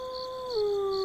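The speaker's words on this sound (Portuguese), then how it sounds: "Eu poderia jurar que ouvi um uivo" A single drawn-out wolf-like howl, a clear steady tone that dips slightly in pitch partway through, heard alone with no talk, close and fairly loud.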